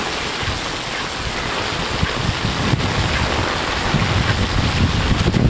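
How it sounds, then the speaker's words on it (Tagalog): Heavy rain and gusting wind during a rapidly rising flood that is entering a house, a loud, steady broadband roar of water and wind buffeting the microphone, swelling slightly toward the end with no voices. "Sinasalubong, sinasalubong tayo ng ano, ng ulan, angin."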